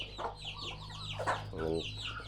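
A young Thai game fowl hen of a Kosem bloodline gives several soft clucks and chirps close by, with a brief louder trill partway through and faint background hum.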